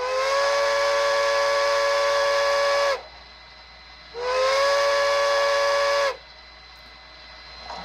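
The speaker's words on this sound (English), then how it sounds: "Also really like the whistle." A Bachmann HO USRA 0-6-0 steam locomotive model with a DCC sound decoder sounds two long breathy chime whistle blasts, each about two seconds, separated by a short pause, fairly loud and alone.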